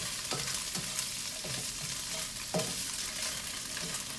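Tofu fries in a pan for vegan zucchini pad thai, a constant close sizzle with several soft scraping stirs spaced a second or so apart, and no voices.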